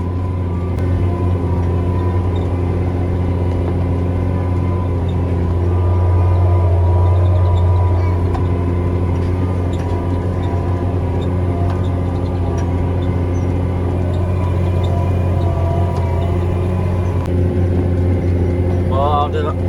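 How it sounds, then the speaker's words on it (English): A tractor engine labors steadily while pulling a chisel plow through a field during fall tillage, a loud, continuous low drone with a brief surge in load partway through. "this is really the only spot I'm struggling to pull the chisel plow here"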